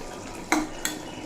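A cooking pot lid on a pot of simmering potatoes and cucumber is lifted, giving two quick metallic clinks close by over a faint steady bubbling.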